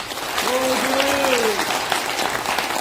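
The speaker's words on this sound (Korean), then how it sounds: "진정으로 창립종회를 멋있게 박수로 환영해 주시길 바랍니다." Audience applause welcoming a founding assembly at an interfaith religious gathering, a steady wash of clapping at moderate volume with a voice speaking or calling out briefly over it.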